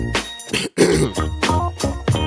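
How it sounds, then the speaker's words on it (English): A person clears their throat several times in quick, raspy bursts, close and loud, with brief pauses between each rough vocal rasp. "Let me clear my throat."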